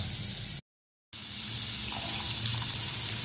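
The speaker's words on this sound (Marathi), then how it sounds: "आता थोडंसं आपण यामध्ये पाणी ऍड करूया आणि याला शिजत ठेवूया" Water runs and pours into a cooking pan of washed vegetables for paneer bhurji, a steady close splashing stream interrupted by a short gap of silence, no speech.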